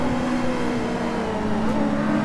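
Race cars in a Forza 6 Apex game race roar steadily at speed, one engine's pitch holding high and shifting as other cars close in nearby.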